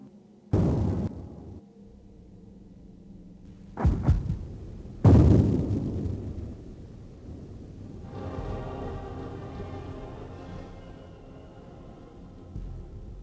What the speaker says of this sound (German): eröffnen die Kanonen das Feuer